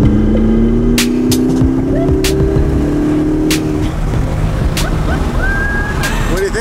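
Supercar engine revving and accelerating up close, a loud rising harmonic whine that climbs and then drops off, with wind and road noise steady underneath and a voice briefly heard over it.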